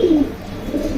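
A newly mated pair of pigeons cooing close by, a short loud coo followed by another softer one within a second.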